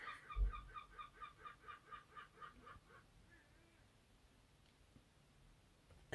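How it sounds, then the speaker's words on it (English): A seagull gives a rapid series of sharp, repeated calls, about ten in quick rhythm, then falls silent in a quiet room. "I don't know if you heard that, but that was a seagull."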